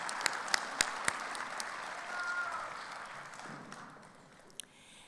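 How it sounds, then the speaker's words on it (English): Sustained applause from a commencement audience honoring graduates at Kishwaukee College's fall ceremony, a dense steady clapping that swells around the middle and tapers off, with a few sharp nearby claps standing out early. "This is a tremendous accomplishment for our graduates and definitely deserves a round of applause."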